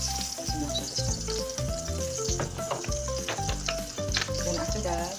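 Garlic for ginisang sardinas sizzles loudly in a hot pan, a dense crackling fry broken by repeated scraping stirs in an uneven rhythm, close up and with no voices over it.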